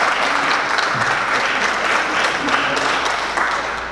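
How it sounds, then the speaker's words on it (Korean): A lecture audience at a forum applauds in sustained, dense clapping that fills the room evenly and fades slightly toward the end. "여러분 박수 한번 쳐주십시오."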